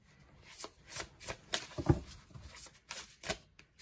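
A deck of angel tarot cards being shuffled by hand, a series of quick riffling bursts in an uneven rhythm, close and fairly quiet, with no talking.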